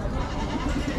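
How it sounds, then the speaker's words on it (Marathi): Goats bleat in short calls at a busy goat and sheep market in Chakan, Maharashtra, amid dense crowd noise. "जी शेळ्यांची पिल्लं आहेत ती पुढे आहेत बघा"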